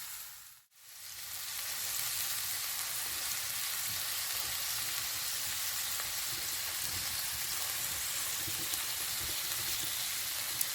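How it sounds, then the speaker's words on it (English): Olive oil sizzles in a cast iron pan over a campfire, a steady loud hissing crackle that runs continuously after a brief quiet gap at the start, with no voices. "I like to use olive oil, but you can use any oil that you have. It's sizzling."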